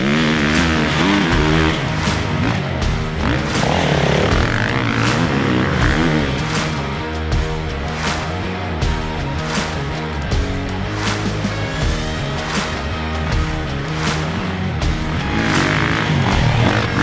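A 2024 Kawasaki KX450X off-road dirt bike's engine, loud and close, revving and shifting continuously as it rides, with rises and dips in pitch and sharp throttle blips throughout.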